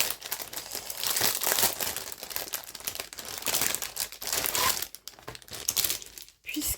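Plastic scrapbooking-supply packages and pouches being opened, giving continuous close crinkling and rustling of wrapping with uneven surges and brief lulls toward the end.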